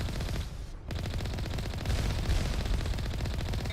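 Alliance heavy turrets fire in Mass Effect: Legendary Edition, loosing a rapid, unbroken stream of rattling shots after a brief gap, loud and close.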